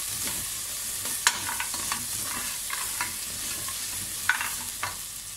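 Spices fry in hot oil in a pan, a steady close sizzle broken by sharp scrapes and clicks of a spoon stirring against the metal.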